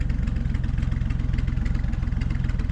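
A Rambler car engine runs steadily up close as the car sets off, a rhythmic low chugging idle with regular pulses that stays loud and even throughout, with no voices.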